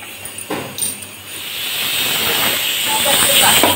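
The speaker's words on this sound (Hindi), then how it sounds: "और 1 से 2 सीटी लगाएंगे हम" A pressure cooker on a gas stove cooking rice pulao lets off a steady, loud steam hiss that builds and holds through the whole stretch, with faint background noise.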